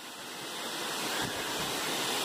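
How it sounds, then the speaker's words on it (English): A waterfall and brook rush beside a hiking trail on Mount Moosilauke in New Hampshire along the Appalachian Trail, a steady, full roar of falling water that swells slightly and continues without pause. "Going along beside the waterfall. It's pretty nice."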